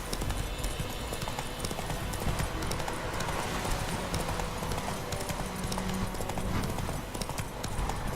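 Roach, a horse in The Witcher 3, gallops with a fast, steady clip-clop of hooves that runs throughout, close and loud, with a faint voice in the background.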